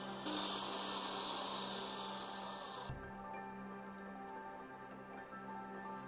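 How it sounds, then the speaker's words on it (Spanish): A power drill whines steadily for about three seconds as it bores through the centre of a plastic bottle cap on a PVC pipe water pump, then stops, leaving a low background hum. "Taladraremos el tapón justo en el centro"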